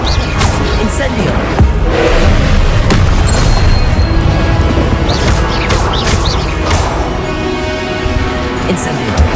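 Incendio fire spells blast over and over in Hogwarts Legacy, loud booming crashes and whooshes packed densely into nine seconds of chaotic combat, with occasional voices underneath.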